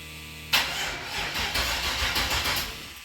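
A car engine with a Holley fuel system, running E85, cranks and catches, starting abruptly and then churning unevenly through rough revs, loud and close.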